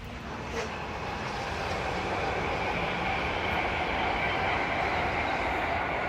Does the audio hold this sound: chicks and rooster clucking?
no